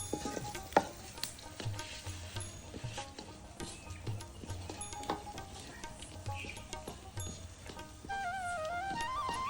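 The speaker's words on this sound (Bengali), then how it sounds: "মা ডাল বাগার দিতেছে" Lentil dal being tempered in a pan in a village kitchen, with onions frying: repeated scraping stir strokes and clinks over a soft sizzle, fairly quiet and close.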